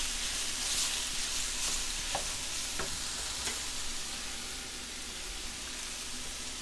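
Vegetable pasta stirred in a hot pan, a steady close sizzle of frying with a few faint scraping taps of the spoon against the pan, no talking.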